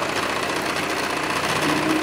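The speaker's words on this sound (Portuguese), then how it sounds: "E vou fazer daí a costura reta." A sewing machine runs a straight seam on a child's cargo Bermuda shorts, a close, continuous rapid mechanical whir with a steady needle rhythm throughout.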